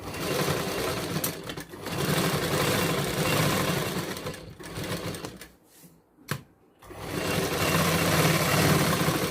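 A sewing machine stitches tucks on a blouse, its motor whirring in a steady continuous run that pauses briefly near the end before resuming at full pace.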